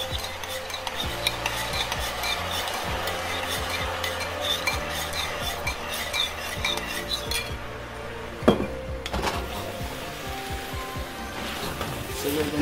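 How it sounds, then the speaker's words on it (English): Chicken chow mein being stirred with sauce in a hot pan, a steady scraping and clattering of utensil against the pan over a continuous sizzle, with one louder clank partway through and no talking. "So we're gonna stir in the sauce."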